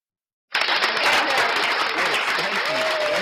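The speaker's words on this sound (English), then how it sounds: "I do appreciate applause." Loud, sustained applause from a live audience bursts in after a brief silence and carries on steadily to the end, with a few claps standing out from the dense wash.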